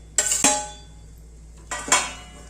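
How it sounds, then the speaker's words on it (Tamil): Small tomatoes mixed into a pot of kuskha rice base: two pairs of sharp metal clanks from a spoon striking the cooking pot, each pair ringing briefly, with quiet between them and no talking. "போட்டு நல்லா அதை இந்த மாதிரி மிக்ஸ் பண்ணிக்கோங்க"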